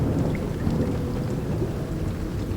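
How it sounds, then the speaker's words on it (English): Heavy rain and rumbling thunder in the video game Life is Strange True Colors: a dense, continuous downpour with deep low rolls throughout, loud and unbroken, with no voices. "Rain?"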